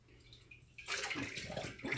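After a brief quiet moment, a kitchen tap suddenly gushes water over a brined chicken in the sink, splashing steadily and close by.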